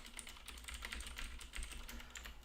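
Quiet, steady typing on a computer keyboard while a message is entered into a chat, the soft key clicks running continuously and close with no talking.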